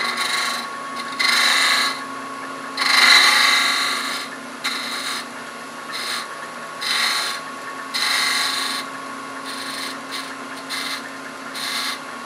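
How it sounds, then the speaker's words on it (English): A swept-back detail gouge carves small scraping cuts into a wooden hot air balloon ornament, close and crisp, in short irregular bursts with pauses between strokes. "I'm going to switch to a swept-back detail gouge"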